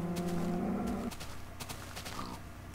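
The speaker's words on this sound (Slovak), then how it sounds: "A na úvod si zabijeme kravu, ktorá nám zrejme niekam uteká." A cow in a video game gives a low drawn-out moo that stops abruptly after about a second, followed by quieter game sounds and faint clicks.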